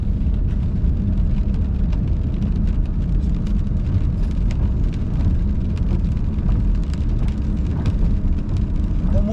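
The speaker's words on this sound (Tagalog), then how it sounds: "Umulan mga boss." Steady rain drumming on a car while driving, a dense continuous wash of patter over low road rumble, with scattered sharper drops hitting the body and windshield throughout.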